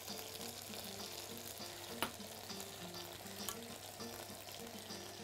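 Peas sizzling in a frying pan as they're stirred, a steady soft frying hiss with occasional scraping and a couple of sharp utensil clicks, heard close and quiet.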